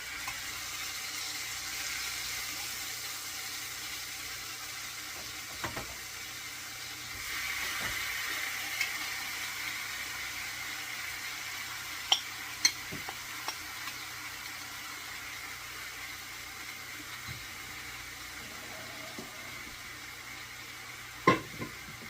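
Oxtails sear in a skillet with a soft, steady sizzle and faint steam hiss, broken by a few scattered clicks and clinks of utensils, fairly quiet and close with no talk.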